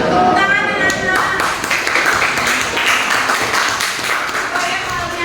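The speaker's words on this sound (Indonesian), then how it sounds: "Tepuk tangan anak-anak." Children in a classroom clap together in a burst of applause, loud and near, with voices mixed in throughout.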